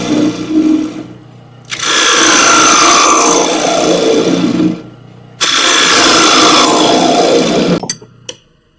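A wood lathe spins while a tool cuts the turning wood, giving two long, loud, rasping bursts of cutting separated by a short lull, and ending with a few knocks.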